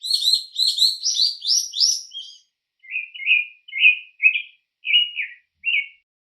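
Bright, shrill bird calls repeat in quick bursts, first a rapid chattering run, then a slower series of separate squawks, fairly close and with no other sound.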